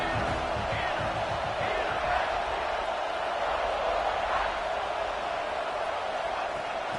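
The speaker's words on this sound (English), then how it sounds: "this crowd is turning it up a notch" A stadium crowd in an NCAA college football video game roars in a steady, dense wash of cheering that holds at an even level throughout, with faint announcer-like voices blended in.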